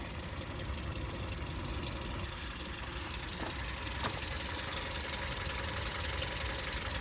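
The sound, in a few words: Kia Cee'd 1.4 16-valve engine idling in bay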